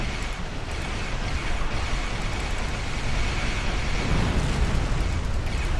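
Starship weapons and explosions in the space game Star Trek Online form a continuous loud, roaring wash of blasts and rumbling impacts that swells slightly toward the end, with no distinct pauses.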